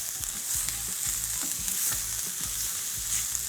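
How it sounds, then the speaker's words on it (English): Curry leaves, salt and chili flakes tossed in a hot pan, giving a steady, close sizzle and crackle with repeated soft scraping and stirring knocks, no voices. "a few carapule or curry leaves, a pinch of salt, add in about a tablespoon of chili flakes for some heat. Give that a toss."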